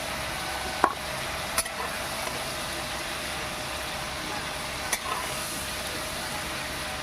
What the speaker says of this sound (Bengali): চিংড়িগুলো হালকা ভেজে তুলে রাখছি